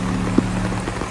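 Heavy typhoon rain pours steadily onto surfaces near a coastal area during a low-pressure storm, a dense, continuous close hiss with one brief louder splash and no voices.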